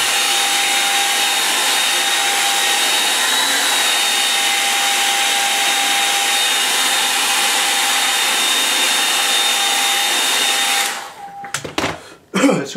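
A hair dryer blows steadily and loudly on a watercolour painting for about eleven seconds with a constant whine, then cuts off, followed by a few handling knocks.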